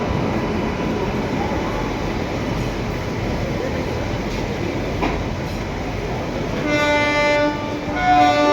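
The Lucknow–Chhapra Express rolls past with a steady loud rumble and rattle of wagons, close by, and a horn-like tonal blare sounds near the end.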